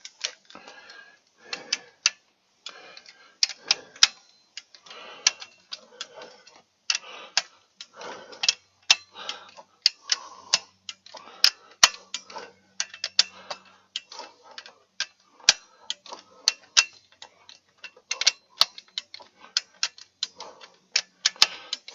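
A torque wrench clicking while bolt torque is checked on a 2013 Hyundai Elantra: a series of small, quiet mechanical clicks and ticks at an uneven pace, close by, with faint handling noise between them.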